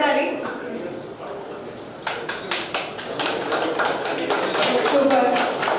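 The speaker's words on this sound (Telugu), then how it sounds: "మీరే చేయాలి, చప్పట్లు కొట్టాలి." Clapping from the audience at a 1983-84 Nuzvid ZPH High School reunion swells after a quieter start, building into steady crowd applause that holds to the end under faint voices.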